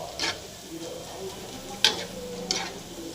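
Sun-dried rice vadagam fritters fry in hot oil, a continuous bubbling sizzle with a few sharper stirring scrapes and splashes, close and moderately loud, with no speech.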